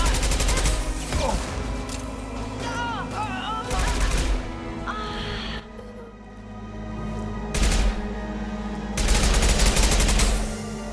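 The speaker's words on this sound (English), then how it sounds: "Firing an impact shot!" Video-game gunfire from Mass Effect 2 on PC, loud bursts of rapid shots and booms in several rounds, with a player talking over the action.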